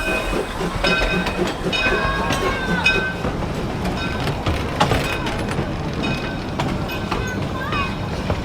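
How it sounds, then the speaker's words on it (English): A visitor train rolls loudly past at close range and slows to a stop at Alderlea Station, with rumbling wheels, clicking rail joints and ringing brake squeal, while voices murmur underneath. "when the visitor train arrived, it would roll right past this scene as it came to a stop at Alderlea Station."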